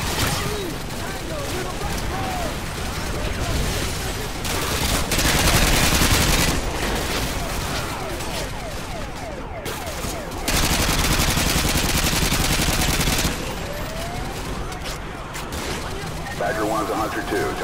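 Machine gun fire at a checkpoint in the video game Call of Duty: Modern Warfare 2: loud, sustained, rattling bursts that swell and ease over several seconds, with voices talking beneath the gunfire.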